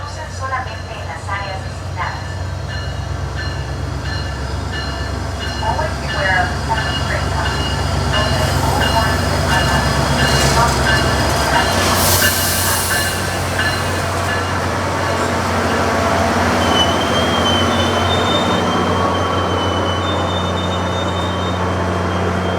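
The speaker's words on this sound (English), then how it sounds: "here's our train approaching Sand Lake Road, which is one of the Sunrail double-decker Bombardier trains" A SunRail Bombardier double-decker commuter train rumbles closer to Sand Lake Road station, its low drone swelling as it nears, with a brief hiss and faint squeals of wheels and brakes.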